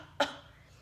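A single short, sharp cough bursts out once against a quiet background, close and fairly loud, then fades quickly.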